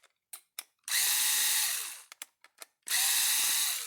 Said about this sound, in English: we're going to take the screws out of this one